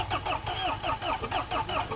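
The starter motor of a Citroën C15 cranks an engine that refuses to fire, giving a steady, rapid, rhythmic churning pulse that stays close and continuous throughout.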